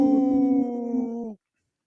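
People imitating a wolf howl together, a loud sustained tonal howl in loose harmony that holds steady and then cuts off sharply after about a second and a half.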